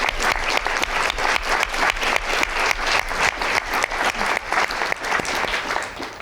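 An audience applauds four women panelists at a business masterclass, a dense, steady burst of clapping from many hands that holds strong and even for several seconds without voices.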